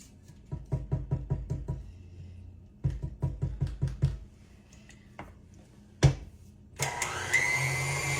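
Electric mixer blending sweet potato cake batter in a bowl, with rhythmic knocking pulses in two runs, a sharp clunk, then a steady continuous motor whir close by.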